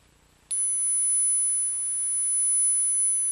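A steady, piercing 10,000 Hz tone from an anti-mosquito ultrasound app played on speakers switches on abruptly and holds unbroken and fairly faint in a quiet room.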